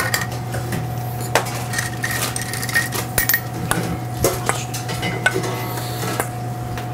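Olive oil being tossed through bread and ingredients in a bowl in a restaurant kitchen, with repeated clinks and scrapes of utensils against dishes over a steady background hum, close and moderately loud, no talking.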